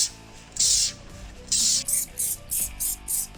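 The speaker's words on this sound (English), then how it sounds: "we're gonna heavily spray and be sure to coat both the tire" Black Magic Intense Graphene Wheel & Tire Cleaner sprayed from a trigger bottle onto a car tire and wheel: seven sharp hissing squirts, the first two longer, the rest short and evenly paced, with background music underneath.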